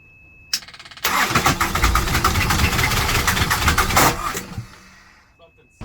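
A sailboat's inboard engine cranks with a brief stutter, catches and runs loudly for about three seconds with a rough rumble, then cuts out and winds down; a voice speaks over it.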